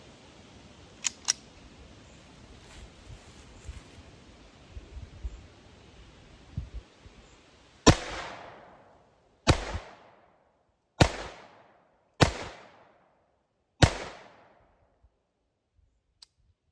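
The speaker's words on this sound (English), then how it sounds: "I have stepped back another 5 feet, so we're about 15 feet and another 5 rounds. Take some more shots" Five sharp .22 pistol shots from a Phoenix Arms HP22A fired at about 15 feet, spaced roughly a second and a half apart with short decaying echoes, after quiet outdoor ambience with a couple of faint clicks.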